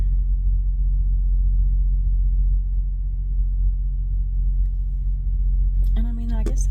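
Freightliner truck engine idling with Opti-idle, a steady low rumble heard from close by that runs for most of the clip, joined near the end by a brief higher-pitched sound.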